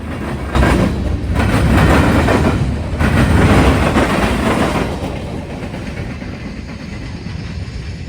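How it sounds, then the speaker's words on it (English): Eastbound local freight train on the Mount Victory subdivision departing the yard in Marion: loud rumbling wheels and rolling cars passing close by with rhythmic clatter, gradually easing in intensity toward the end. "we would see an eastbound local on the Mount Victory subdivision as it departs the yard here in Marion"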